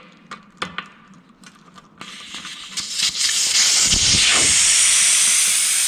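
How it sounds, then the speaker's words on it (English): Air hisses out of a tractor tire once its valve stem is pulled, beginning with a few metallic clicks and handling sounds, then swelling into a loud, steady, close rush of escaping air that continues to the end. "So we're just gonna go ahead and pop the valve stem out. So therefore we can get the air out of it."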